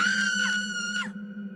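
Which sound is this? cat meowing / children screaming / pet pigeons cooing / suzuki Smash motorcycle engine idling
children screaming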